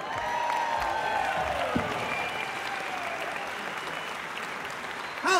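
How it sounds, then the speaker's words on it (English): Concert hall audience at an orchestral showcase applauds steadily for several seconds, a dense even clatter of many hands that tapers slightly toward the end. "Give them another round of applause."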